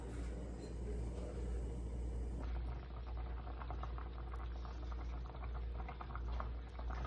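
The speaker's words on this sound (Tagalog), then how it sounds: "So, kumukulo na siya." A pot of pork adobo bubbles and simmers steadily, with a low constant rumble and a soft crackling patter of boiling liquid throughout.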